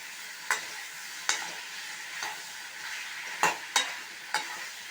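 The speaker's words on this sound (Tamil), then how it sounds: "நல்லாவே வதங்கிடுச்சு தக்காளி வெங்காயம் காயெல்லாம் ஒன்றா சேர்த்து கொஞ்சம் நேரம் வதக்கிடுங்க" Tomatoes, onions and vegetables sauté in a pan for a mixed vegetable gravy, a soft, steady sizzle punctuated by several sharp clinks and scrapes of a spoon at irregular intervals.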